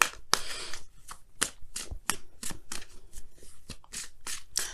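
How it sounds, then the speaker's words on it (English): Oracle cards shuffled briskly in close, crisp riffles and snapping flicks, a rapid run of sharp card slaps and rustles that keeps going the whole time. "let's go ahead and pull your Wisdom of the Oracle card"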